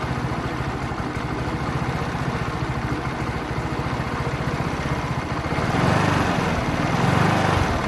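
A 50cc petrol scooter engine idles steadily with a fast, even putter while its carburetor is being tuned, close and loud, the note swelling slightly toward the end with no talk over it.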